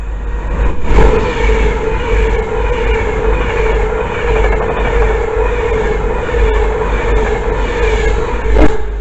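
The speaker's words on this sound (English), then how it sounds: "And also we have the Avanti 390 in the Pride set." An Avanti West Coast Class 390 Pendolino electric train runs through Bushey station on a Manchester Piccadilly to London Euston service, a loud, steady rushing roar with a constant hum and sharp clicks from the rails throughout, no voices.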